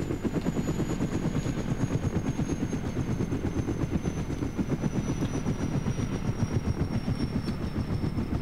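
Helicopter rotors in the ArmA video game, a loud, rapid low thumping chop that keeps a steady rhythm throughout, with a high whining tone running continuously above it.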